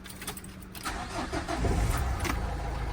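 Mercedes MB200 with a flat battery cranking on jumper cables, then its engine catching and settling into a steady, rumbling idle, close and fairly loud.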